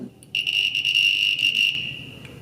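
Microwave oven beep heard as one steady, high electronic tone lasting about a second and a half, fairly loud and alone, then fading.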